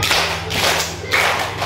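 Hand claps in a group counting game, two distinct claps about half a second apart followed by another near the end, moderately loud over a low background hum.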